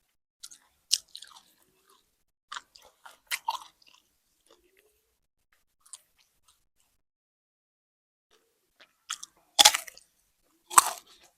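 Crisp crunching bites and chewing of fresh raw vegetables eaten with sokolek and hot chili, in sparse close bursts with quiet gaps, two loud crunchy bites near the end.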